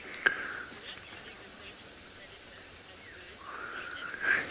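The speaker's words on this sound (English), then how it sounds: "I can hear a whole bunch of birds in the edge of this forest start waking up" Birds calling from the edge of an African forest at sunset during a safari drive, a few scattered calls rising over a steady hum of insects, fairly distant and faint.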